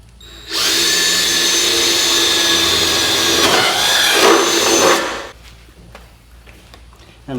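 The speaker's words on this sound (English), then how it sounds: "drill your hole" A power drill whirs loudly and steadily for several seconds, its pitch shifting briefly midway, then stops, leaving quiet shuffling.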